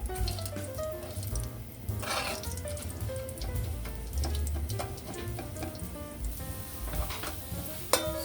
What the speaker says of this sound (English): Here I have 2 teaspoons of olive oil, and I'm going to add achiote seed.